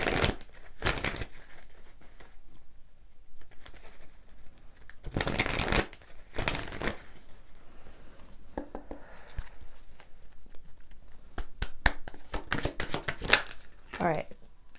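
Law of Attraction oracle cards being shuffled in bursts of riffling and crisp card rustles, several separate shuffles spread across the stretch, close by with a voice talking in between.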